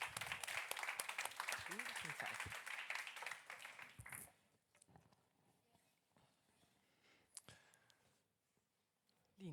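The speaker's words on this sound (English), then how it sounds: "Round of applause." Applause from a conference audience for speakers at a Nordic fashion industry event, a dense patter of clapping hands with voices mixed in for about four seconds before it fades to a quiet room.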